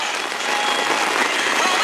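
Heavy rain drums steadily on a tent during a rainstorm on the Colorado Trail, a dense, continuous hiss at close range with no pauses.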